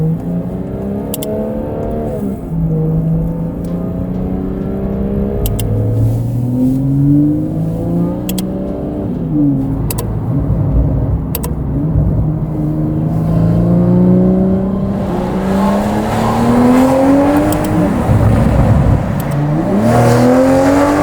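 Toyota MK5 Supra with a catless exhaust setup revs and accelerates, loud raspy engine tone climbing and falling through repeated pulls, close and continuous with no talking.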